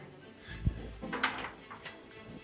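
Door of a custom 1940 Ford coupe being opened and shut, giving a low thump followed by a few lighter metallic clicks and latch sounds, moderately loud and close in a quiet workshop.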